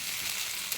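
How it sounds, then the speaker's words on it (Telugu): Cooked rice hitting a hot frying pan, a brief, even crackling sizzle that fills the moment, close and steady with no voices. "ఇంకా ఇట్లా పొడిగా చేసుకున్న తర్వాత ఇప్పుడు రైస్ ఇందులో వేస్తున్నాం"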